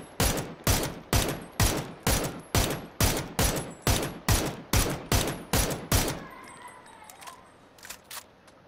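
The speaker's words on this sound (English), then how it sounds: "There's somebody shooting." Rapid bursts of sniper-style gunfire in a video game, about a dozen loud evenly spaced shots over six seconds, then a quieter tail with faint background ambience.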